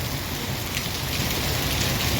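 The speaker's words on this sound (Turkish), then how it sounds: "Tam yaz yağmuru şu an arkadaşlar." Steady summer rain pours outdoors during a school physical education class, a dense, even hiss holding constant at close range with no voices.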